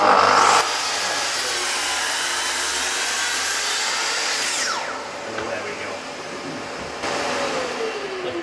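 Track saw making a cross cut through wood: a loud, steady motor whine runs close for several seconds as the blade cuts, with a brief shift in pitch near the end as the cut finishes.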